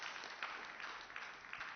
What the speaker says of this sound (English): Please keep the applause coming until she gets up on stage.